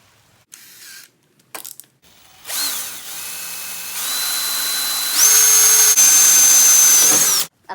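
A power drill whirs up in several steps, its pitch rising and holding, after a few short clunks, drilling a hole to mount a tachometer on a racing lawn mower; loud and close with no speech.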